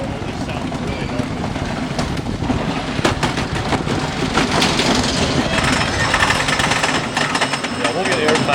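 Loud, continuous rattling and rumbling roar of the Ghostrider wooden roller coaster at Knott's Berry Farm in motion, with riders talking over the clatter throughout.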